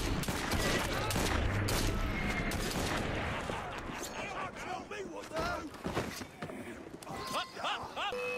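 Gunfire in Assassin's Creed Syndicate rattles in a dense volley of shots, loudest at first and then thinning into scattered reports, while voices shout and talk over the shooting.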